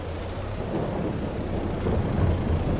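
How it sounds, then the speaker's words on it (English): Rain and rolling thunder in Farming Simulator 22, a low continuous rumble under a steady rain hiss that swells slightly toward the end, with no talk. "here comes the rain"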